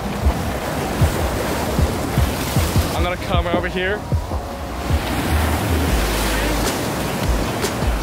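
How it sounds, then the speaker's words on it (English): Ocean waves wash and splash onto the shore at sunset, a loud, continuous roar of surf with wind buffeting the microphone; someone speaks briefly midway. "Oh, there's a splash."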